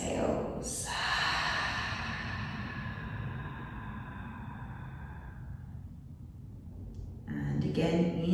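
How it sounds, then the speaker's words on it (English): Slow yogic breathing during a vinyasa practice: a long, audible exhale fades gradually over several seconds, with a fresh breath drawn at the start and end, close and soft in a quiet room. "Elongating the inhales. Long exhales."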